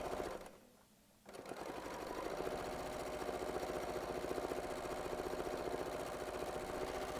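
A quilting sewing machine stitches an overall design in a steady, fast mechanical hum. It pauses briefly near the start, then runs continuously and close at moderate level.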